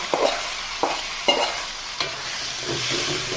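Boiled greens are tossed into hot oil with browned onion and garlic, giving a soft sizzle broken by several sharp scrapes of a spatula stirring the pan, close and unaccompanied by speech.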